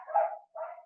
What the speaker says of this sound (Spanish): mis perros están ladrando porque vieron un gato